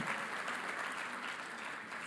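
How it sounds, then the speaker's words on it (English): Audience members at the ICAN Dubai 2023 autism conference give a round of applause, a fairly quiet, continuous wash of clapping from a large hall with no voices over it. "Give your guys yourselves a round of applause."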